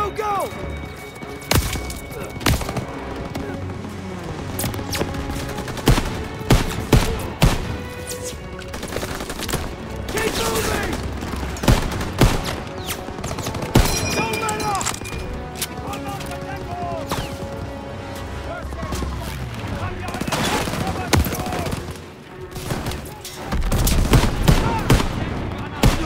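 Machine gun bursts and scattered gunfire from a World War II battle in Call of Duty WWII, with a squad attacking MG nests in a barn, crackling densely throughout amid shouting soldiers and heavy battle noise.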